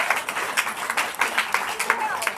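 A small audience briefly applauds a cameraman at a bookstore author event, with quick rhythmic claps close by and voices mixed in.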